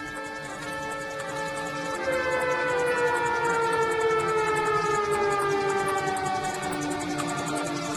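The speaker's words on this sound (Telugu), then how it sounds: "సైరన్?" A siren wails in a long, rising and slowly falling tone, swelling louder after a couple of seconds and holding steady, with no voices.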